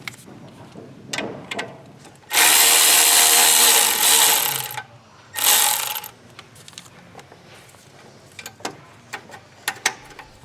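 Power tool working turbo manifold bolts on a Chevy Cruze, two loud sustained bursts of a few seconds each, separated by a brief pause, with scattered clicks and clanks of tools before and after.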